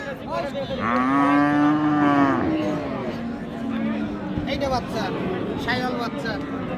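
A cow lets out a long, loud moo close by at a cattle market in Raniganj while crowd chatter and other livestock murmur in the background.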